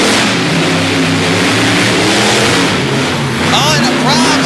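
Monster truck engines rev hard during a race in Topsfield, Massachusetts, a loud sustained harmonic roar that rises and falls in pitch, with a voice talking over it.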